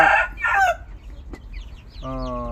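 Free-range village chickens on a small farm cluck in short bursts, and near the end a rooster crows loudly and close by. Faint sounds of the farmyard run underneath.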